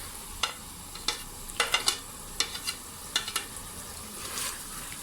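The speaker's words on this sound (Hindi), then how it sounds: "अब मैं इसको थोड़ा सा भून लूँगी और भूनते भूनते ही साथ ही इसमें मैं हरी मिर्चें और जो चॉप अदरक था वो भी डाल दूँगी।" Ginger and green chilies frying in a pan for gobhi chicken, with a soft steady sizzle under a series of sharp, close scraping and stirring clicks from a utensil against the pan.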